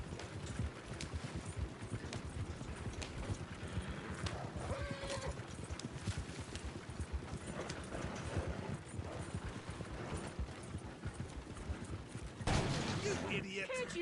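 Horses pulling a wagon in the video game Red Dead Redemption 2, with steady clip-clopping hooves, rattling wheels and a whinny, under distant gunfire and voices talking.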